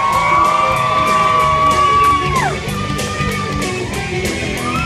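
A crowd at a county fair comedy hypnosis show whoops and cheers loudly and continuously, with a sustained shrill whistle or yell standing out above the din for a couple of seconds.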